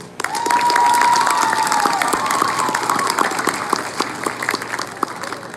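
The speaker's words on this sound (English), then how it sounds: "let's give one last round of applause to our student speakers" An audience at a middle school eighth grade celebration claps and cheers for student speakers, loud at first and slowly thinning, with a whistle rising over the crowd early on.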